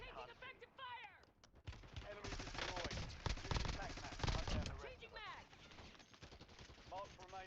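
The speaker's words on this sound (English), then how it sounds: "Who the fuck is shooting?" Video game gunfire rattles in rapid, dense bursts of close shots, sometimes overlapping, while players talk over it.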